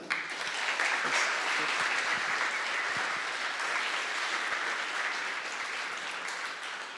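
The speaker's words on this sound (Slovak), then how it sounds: "Potlesk" Sustained applause from a hackathon finals audience fills the room, steady and dense from start to finish, with a few faint voices beneath the clapping.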